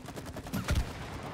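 Video game gunfire rattles out in a quick burst of several shots, fairly loud and close, with no talking over it.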